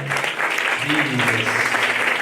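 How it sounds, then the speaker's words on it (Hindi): A church congregation claps for the worship team, a dense burst of applause that carries on for a couple of seconds, loud and close, with a voice speaking over it. "एक छोटी सी ताली हमारी वर्शिप टीम के लिए भी चाहे उधर करें"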